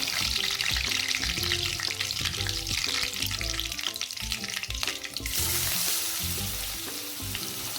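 Curry leaves and asafoetida sizzling in hot oil, a dense, loud, continuous frying hiss with faint stirring clinks, with no voices.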